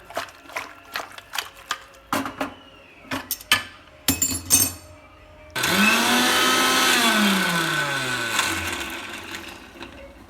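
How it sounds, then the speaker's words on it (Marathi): A few clinks and taps, then a mixer grinder roars to life, its loud, steady motor whirring with a pitch that dips and rises as it grinds a paste of ginger, garlic, coconut and coriander. "आपण अशी मिक्सरला पेस्ट करून घेतली आहे"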